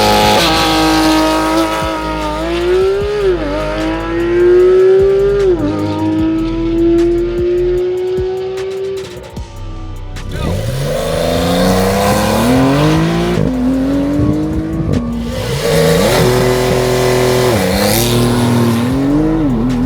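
A car driven on scenic roads, its engine rising and falling through repeated gear changes, loud and steady, with no talk over it.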